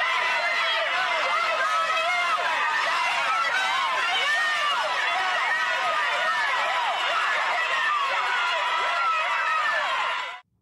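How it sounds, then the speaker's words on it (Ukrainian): An angry crowd outside the Capitol confronts Marjorie Taylor Greene, a dense, steady roar of shouting and jeering voices that stays loud for about ten seconds before cutting off abruptly. "Після сорму в Капітолії на вулиці її тепло зустрів розлючений натовп."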